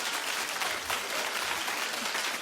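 A studio audience on a television talk show claps together, a dense, steady burst of applause from a large crowd that holds at one level throughout.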